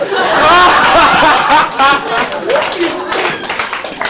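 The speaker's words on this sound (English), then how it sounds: "Round of applause, surely." Clapping at a speech mixes with chuckles, laughter and lively chatter from the guests, hands patting unevenly beneath voices that keep talking and laughing throughout.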